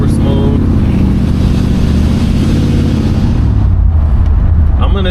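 A 1968 Chevrolet Impala SS engine rumbles loudly from inside the car while driving, a low steady drone that drops in pitch as a smooth early gear shift comes, then settles lower.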